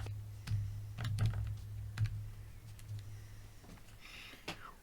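Clicks from a computer keyboard during an electronics repair, quick bursts of keystrokes that come in uneven clusters, close and soft over a low steady hum, with no speech.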